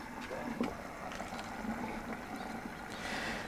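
Water rushes steadily into a 140-liter RV fresh water tank through its filler neck, a constant broadband hiss with a brief splashy burst early on, close and moderately loud.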